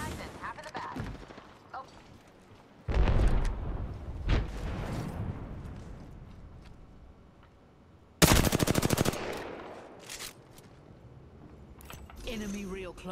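Bursts of automatic gunfire in Apex Legends, loud volleys at intervals separated by quieter stretches with movement noise and brief voice.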